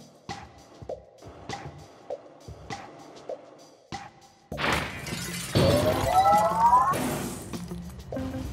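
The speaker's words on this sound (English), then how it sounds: "the breaking of this glass is a necessary evil" Glass shatters in the video game Quantum Conundrum: a series of sharp ticking impacts gives way to a loud, sustained crash and sweeping smash, with no speech.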